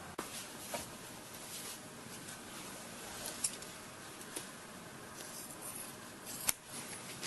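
Scissors snip out an outline in the foam of a Plano single unscoped rifle case, with quiet, close, irregular cuts and a few sharp clicks over low background hiss.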